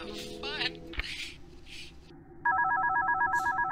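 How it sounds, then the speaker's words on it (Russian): A telephone rings in a horror video game, an electronic two-tone trill starting partway through and repeating loudly after earlier game noises. "Кто звонит? Где выключить телефон?"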